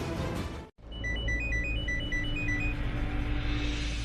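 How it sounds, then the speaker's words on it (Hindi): A phone rings for an incoming call. A melodic electronic ringtone repeats a short tune of bright beeps, loud and steady, after a brief cut in the background music. "शर्लीन फोन कर रही है आपको, बात कर लो।"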